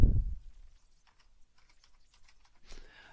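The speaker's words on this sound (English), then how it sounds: "type a bit more text." A few soft keystrokes on a computer keyboard, quiet and close, following a brief low thump at the start, with no speech.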